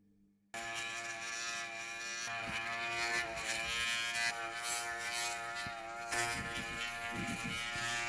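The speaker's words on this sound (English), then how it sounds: "now let's try this mini shaver" A kensen mini electric pocket shaver switches on after a brief quiet start and buzzes steadily up close, its whine wavering slightly as it moves across stubble.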